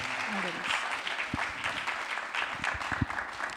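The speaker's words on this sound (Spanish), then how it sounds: "un fuerte aplauso al Señor" Congregation at a Spanish-language church fasting service gives a strong round of applause to the Lord, a sustained wash of many clapping hands with voices speaking and calling out through it.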